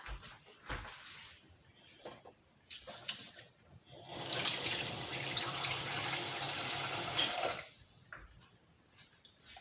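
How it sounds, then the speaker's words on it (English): Hands are washed under a running kitchen tap, with a steady rush of water lasting several seconds in the middle, framed by quieter handling noises and clatter before and after. "I need to wash my hands."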